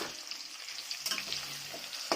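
Turmeric and chilli powder frying in hot oil in a pan, a soft steady sizzle with faint stirring scrapes and a sharper clatter near the end, close and fairly quiet.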